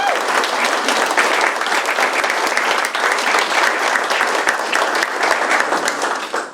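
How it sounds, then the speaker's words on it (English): Audience at a city council meeting in Universal City, Texas gives a dense, steady round of applause for a student robotics team, sustained and fairly close before tapering off at the end. "Ladies and gentlemen, a round of applause for Team Spicy Ketchup."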